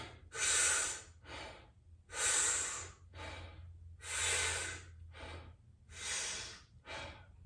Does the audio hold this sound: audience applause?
no